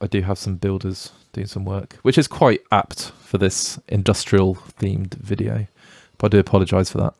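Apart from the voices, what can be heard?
No distinct noise like a dog, phone or traffic.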